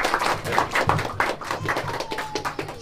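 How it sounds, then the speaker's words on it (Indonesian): An audience in Sukodadi claps for the Regent of Magelang at a community event, giving a brief, moderately loud patter of uneven hand claps with faint murmuring behind. "Boleh tepuk tangan untuk Pak."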